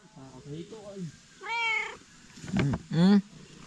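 A cat meows several times close by in a short run of plaintive calls, with a person speaking softly in between.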